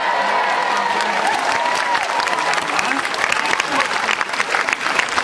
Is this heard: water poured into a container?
no